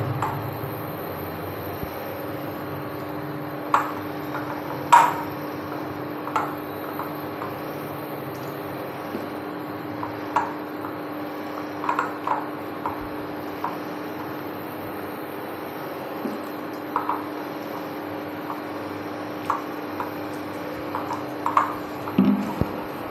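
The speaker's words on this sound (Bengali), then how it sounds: "অল্প অল্প জল দেবো আর মেখে নেবো ভালো করে।" Baby corn pakora batter is mixed and squeezed by hand as water is added a little at a time, giving faint, irregular wet squishes over a steady background hum.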